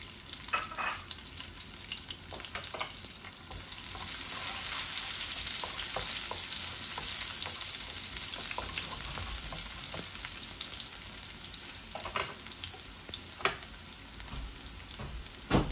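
Cumin seeds and fresh garlic frying in hot oil for a spiced meat and potato dish, a steady close sizzle that swells after a few seconds, dotted with small pops and crackles, no voices.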